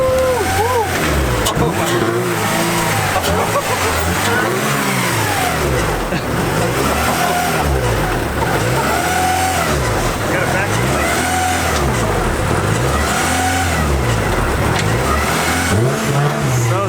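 Nissan S14 engine revving repeatedly in a steady rising and falling cycle, loud and close and running throughout with no pause.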